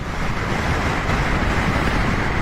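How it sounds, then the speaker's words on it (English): Steady, roaring wind buffets the microphone while riding a BMW GSA motorcycle on a gusty mountain road, a dense continuous rush with no speech. "Definitely windy."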